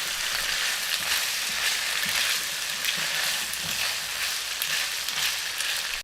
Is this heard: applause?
no